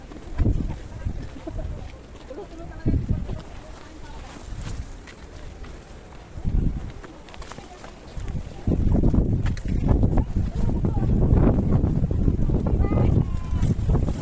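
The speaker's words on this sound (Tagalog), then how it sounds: "grabe yung hangin, no?" Strong wind on the Dragon's Back trail in Hong Kong buffets the microphone in heavy, rumbling gusts that grow louder and more constant toward the end, with voices faintly under it.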